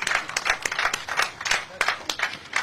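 An audience applauds President Jovenel Moïse, with steady, rhythmic clapping from a modest group, close and moderately loud, with voices faintly mixed in.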